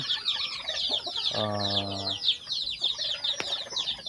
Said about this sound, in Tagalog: wala kang ibang maririnig kundi ang ingay ng mga manok, sisiw, tunog ng mga ibon